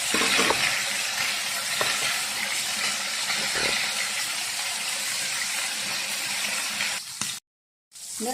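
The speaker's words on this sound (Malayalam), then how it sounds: "ചൂടായ എണ്ണയിലേക്ക് മീനിട്ട" Fish shallow-frying in hot oil in a pan gives a steady, loud sizzle and hiss with faint stirring clicks, running unbroken until a brief cut near the end.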